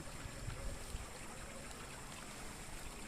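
Water runs steadily through a small channel at the front of a shaded plantation garden, a faint, continuous trickling stream with no voices.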